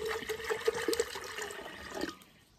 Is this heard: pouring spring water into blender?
yes